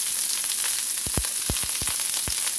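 Jalapenos, about half a cup, sizzle and fry in a hot pan as the first ingredient for fried rice, a steady close hiss broken by several sharp pops and crackles.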